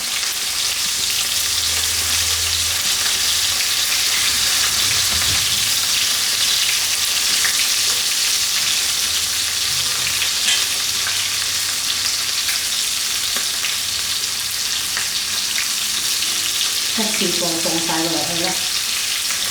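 Shrimp frying in very hot oil for salt and pepper shrimp, a loud, dense, continuous sizzle that holds steady throughout, with a brief clatter of a utensil near the end.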